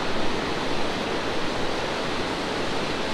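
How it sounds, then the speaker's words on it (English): Waterfalls cascade down the rock walls of Box Canyon, Colorado, a broad, steady roar of rushing water that holds constant and full throughout, with no voices over it. "And look at those waterfalls coming down."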